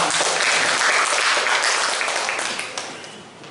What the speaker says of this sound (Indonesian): Mungkin boleh dengan aplaus tepuk tangan untuk beliau.